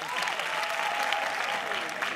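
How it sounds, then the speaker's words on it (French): Comedy show audience breaks into steady, full applause, a continuous dense patter of clapping with a faint crowd murmur and a voice underneath. "Et ça s'applaudit les filles."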